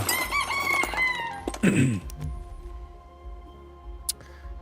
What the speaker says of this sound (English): Got our Scrappy, the rooster with his fighter helmet on.